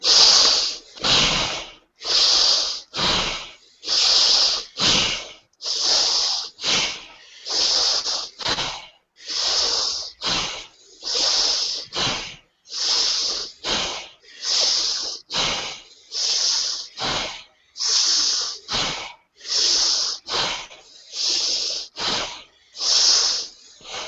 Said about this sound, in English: Inhale. Exhale down.